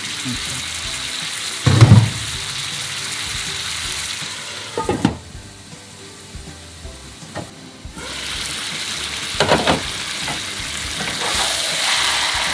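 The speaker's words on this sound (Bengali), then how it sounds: "এখন তো জাস্ট নাড়ছি যাতে লেগে না যায় নিচে" Spicy duck curry is stirred in a pan to keep it from sticking, with loud sizzling frying broken by scraping spatula strokes in bursts, with no talking.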